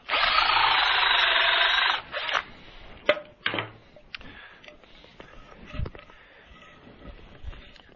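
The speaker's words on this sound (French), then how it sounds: "Et maintenant, on va pouvoir percer avec la mèche de 4 mm." A power drill bores into wood with a 4 mm bit while a wooden polycarbonate greenhouse is being built. A steady whirring whine runs for about two seconds, then stops, followed by scattered clicks, knocks and handling noises.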